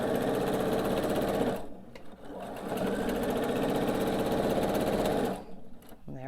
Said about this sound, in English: Just gonna sew slow.